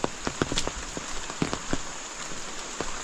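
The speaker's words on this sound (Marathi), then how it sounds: "म्हणजे पाऊस एवढं जोरात पडत आहे ना" Heavy monsoon rain in the Konkan countryside falls steadily as a dense, even hiss, with scattered sharper drop taps and splashes over about three seconds and no voices.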